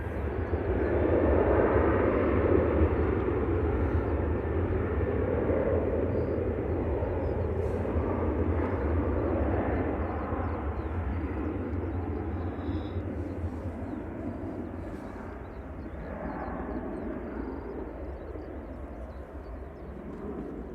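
Airliner departing Manchester Airport for Chambéry, a broad steady jet engine roar that stays loud and continuous throughout, slowly fading slightly as the aircraft moves away, with no talking.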